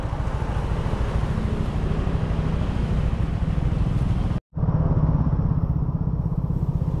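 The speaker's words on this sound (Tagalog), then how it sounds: "Ayan, may mga motor." Motorcycle engines run steadily and loud near a beach, a continuous low throbbing rumble with a brief cut partway through.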